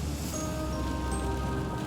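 Steady rain falls on a rainy night on a lonely road, a dense, even hiss of drops with a faint sustained tonal hum beneath it and no voices.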